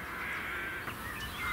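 Crows caw over a farm field where they pull up young shoots to reach the seed, heard faintly and at a distance against a steady outdoor hiss.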